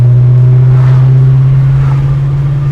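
Interior drone of a 1971 Oldsmobile Cutlass 442 W-30 engine cruising at about 55 mph and 4,500 RPM, a loud, steady low hum with road roar, no talk.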